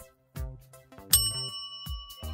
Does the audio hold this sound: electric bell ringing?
yes